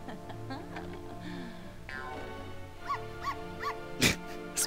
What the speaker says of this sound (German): Es bellt.